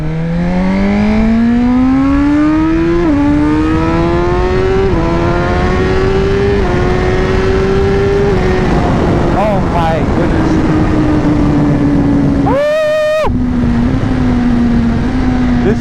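A fast motorcycle's engine revs hard and loud up close, its pitch climbing in stepped surges through the gears before easing to a steady drone; a brief burst of higher noise cuts in near the end.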